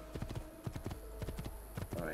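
Horse hooves clip-clop in steady, evenly spaced beats as a horse walks in Assassin's Creed II, joined by brief whinny-like sounds and light background game sounds.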